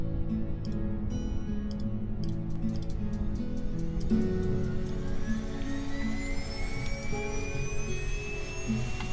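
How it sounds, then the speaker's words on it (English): Steady roar of a rocket plane engine in Kerbal Space Program fills the scene at close range, with clicking ticks early on and a rising whine climbing through the second half. "start up our engine again"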